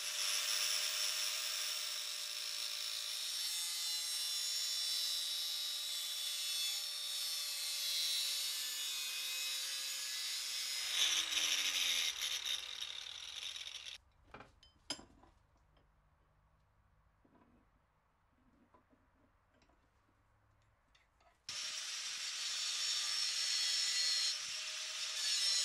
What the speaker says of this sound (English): I must bring in the angle grinder